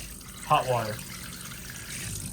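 Water runs steadily from the kitchen faucet of a 2025 Forest River Salem Grand Villa 42 travel trailer, a soft continuous hiss beneath a brief burst of speech.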